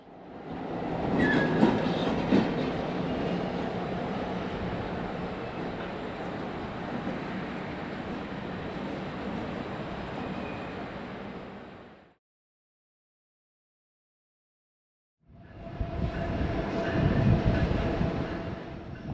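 A steel mill freight train carrying molten steel rumbles steadily along the rails in Chicagoland with rhythmic wheel clatter, cutting out into a few seconds of silence before the rolling noise returns loud and close.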